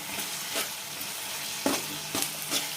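Half a spoon of ginger paste frying in a pan for an amaranth leaves and liver fry, a steady close sizzle with a few brief stirring scrapes.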